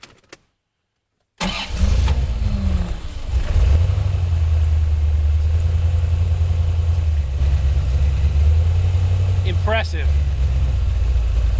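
An older OBD1-era car engine cranks and catches after a jump start, then settles into a steady, close, rumbling idle; a voice briefly speaks over it.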